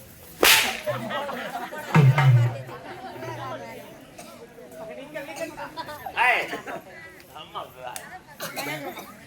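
Sharp whip cracks in a Tamil village stage drama, a loud crack near the start and another around two seconds, with fainter snaps later, amid lively talking and chatter from performers.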